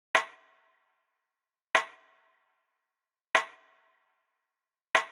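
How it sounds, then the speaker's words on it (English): Four sharp, crisp rim shot hits spaced evenly about every 1.6 seconds, each snapping clean and decaying fast into silence, programmed for a UK drill beat. "I just played this very simple rim shot pattern that ended up sounding like this."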